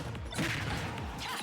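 Snake's grenades blow up in Super Smash Bros. Ultimate, a crunchy crash followed by a rumbling blast and a softer second burst near the end, loud and close with no talk.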